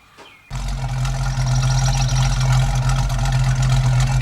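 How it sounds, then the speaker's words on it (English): A car with a dual exhaust and H-pipe fires up after a brief faint start, then settles into a loud, steady, smooth idle rumble close by, sitting in a driveway. "Warmed up at idle sitting in the driveway."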